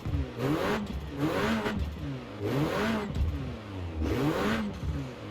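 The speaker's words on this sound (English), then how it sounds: "I'm almost positive this is the same exact engine sound" A 2018 Renault Megane R.S. engine revs repeatedly in bursts in Forza Horizon 4, rising and falling in pitch about four times, loud and steady with a slight rattle, no voices.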